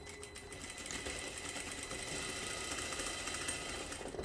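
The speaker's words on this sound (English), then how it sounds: "After you put the bobbin case in and then you start to do the sewing, I show you what happened." An industrial sewing machine runs steadily after the bobbin case is fitted, a continuous fast mechanical whirring and clatter, close and even throughout.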